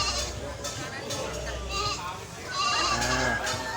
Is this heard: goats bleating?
yes